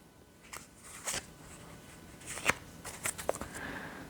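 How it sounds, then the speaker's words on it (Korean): Tarot cards are shuffled and drawn during a reading, giving soft papery riffles and several sharp close snaps and slaps of cards over a quiet room, with no talking. "자, 그리고 조언점 카드 하나 뽑도록 할게요."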